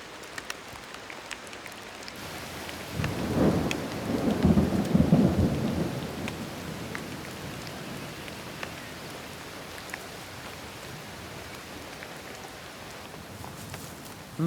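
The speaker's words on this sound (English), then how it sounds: "The worst rains in living memory." Heavy rain during a record downpour in wombat country, roughly 400 millimetres in two days, falling as a dense, steady hiss. A deep rumble of thunder swells and fades early on, then the rain carries on alone.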